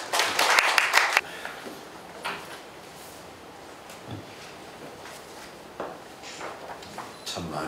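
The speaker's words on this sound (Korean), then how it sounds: "박수로 맞이하겠습니다." A church congregation at a seminary dean's inauguration service claps to welcome a pastor to preach, a short loud burst of applause lasting about a second, then fading to scattered faint taps and room noise.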